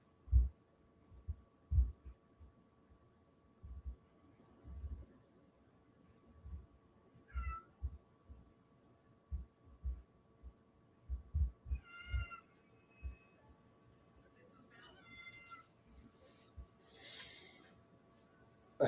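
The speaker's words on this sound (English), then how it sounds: "I hear my cat calling here." A house cat calls out in several short meows, faint and intermittent, against a quiet room with a low steady hum and soft thumping sounds.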